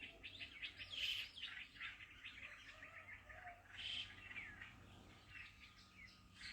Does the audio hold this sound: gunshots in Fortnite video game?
no